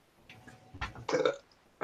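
A single drawn-out, guttural burp rises in bursts and swells into a loud, rough peak near the end, heard alone with no talk.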